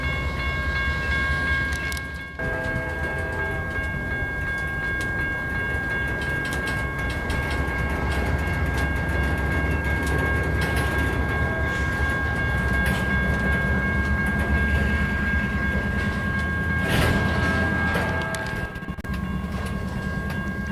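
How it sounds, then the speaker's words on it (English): A freight train rumbles past on the rails, a continuous loud roar with clanking wheels and a steady tonal whine throughout. "another freight train was heading up the other track"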